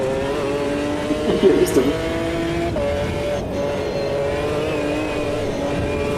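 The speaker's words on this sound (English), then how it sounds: "So apparently it's blipping the throttle for me" A GT1 race car engine in Automobilista 2, driving Road America, drones steadily with brief throttle blips, while a voice talks over it.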